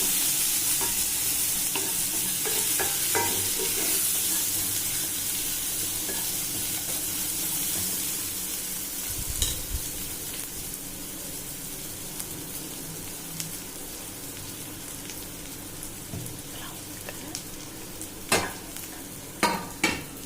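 Sliced onions and a green chili sauté in a pan for a karuvadu thokku, giving a steady close sizzle with light stirring scrapes and a few sharp utensil knocks toward the end.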